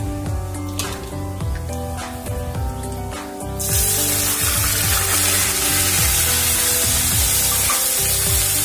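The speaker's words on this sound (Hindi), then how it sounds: "हम अपने प्याज को अच्छे प्रकार से भून लेंगे, सुनहरा होने तक" Ground onion for rajma hits a hot pan and bursts into loud, steady sizzling and spitting, with scraping stirring sounds before it and throughout.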